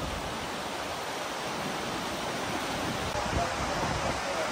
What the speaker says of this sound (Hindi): ये देखिए पानी चश्मा आ रहा है, कितना साफ पानी है।